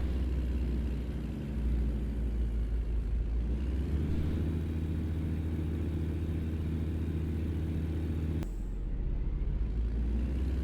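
Heavy truck engine in American Truck Simulator on the Dalton Highway grinding uphill, a steady low diesel drone with shifts in pitch as it downshifts and loses speed, near and loud with no talk.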